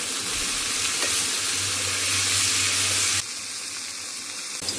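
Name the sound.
raw peanuts added to a frying pan and stirred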